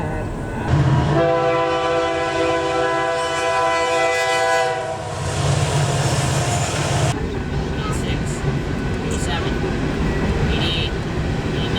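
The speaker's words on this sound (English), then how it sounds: "And we get to see a train." A freight train of about 90 cars rumbles past with a long, loud horn blast, then steady clattering of rail cars continues; voices are faintly audible in the background.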